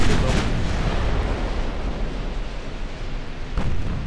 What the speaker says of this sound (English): Where are all these torpedoes coming from? It's one ship.